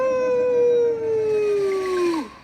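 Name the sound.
orangutan howling in a story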